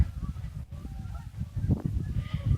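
Geese migrating along a flood plain honk in repeated calls, moderately distant, over a steady low background rumble.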